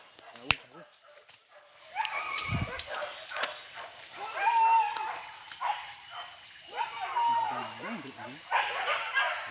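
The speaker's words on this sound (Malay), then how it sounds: "anjing." Hunting dogs bark and yip during a wild boar hunt in the hills of Tanah Datar, West Sumatra, a pack of overlapping barks and whimpers at middle distance, continuous and fairly loud, with people talking nearby.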